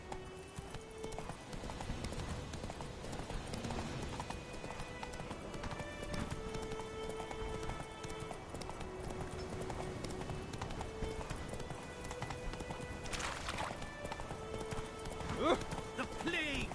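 Roach the horse galloping in The Witcher 3, a steady clip-clop of hooves running beneath game music and occasional talk, with a faint whinny near the end.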